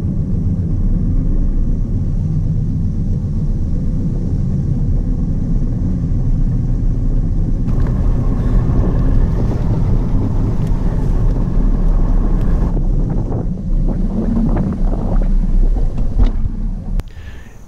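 A bass boat engine roars steadily at about 55 mph, loud and continuous with wind buffeting the microphone, the pitch shifting slightly near the end as the boat crosses grass flats on a lake.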